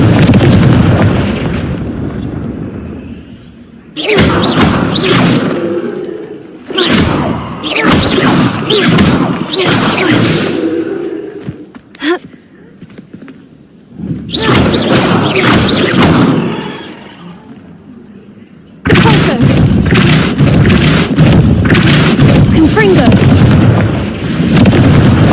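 Confringo blast spells in Hogwarts Legacy go off as loud, close explosive bursts in several long clustered volleys, with short quiet gaps between them.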